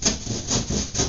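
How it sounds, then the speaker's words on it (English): A drywall knife saws down through a drywall panel in three quick rasping strokes, each a close, scratchy rub. "The nice thing with the drywall knife is you can just stab it into the drywall at each corner and then just saw it down."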